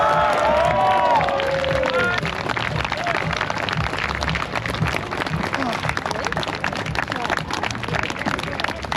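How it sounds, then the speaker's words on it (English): A crowd at a medieval festival bursts into sustained applause and cheering that ripples on steadily for several seconds, close and fairly loud, with a few raised voices mixed in. "Can you please give a round of applause"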